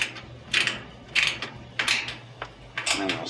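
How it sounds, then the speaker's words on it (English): A mini ratchet tightens a screw on a Maytag washer, four short bursts of rapid clicking, close and distinct, spaced evenly with brief pauses between. "then bring our mini ratchet in,"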